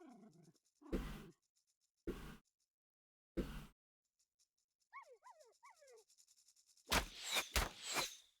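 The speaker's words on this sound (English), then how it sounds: "It's hyenas, my boys." Hyenas in the Battle Brothers video game give three loud, short growling barks spaced about a second apart, then a run of thin yelping whimpers, ending in a dense burst of snarling roars.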